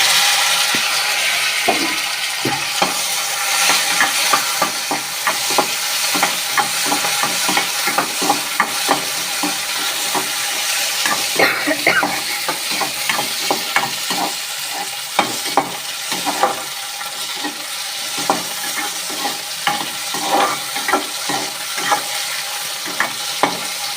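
Garlic fries in hot oil in a pan for garlic chutney, a steady loud sizzle broken by the repeated scrape and clatter of stirring. It is heard close up, with no talking.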